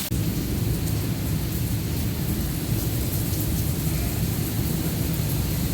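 A thunderstorm with heavy rain sends up a constant loud wash, with deep low rumbling of thunder rolling underneath throughout and no voices.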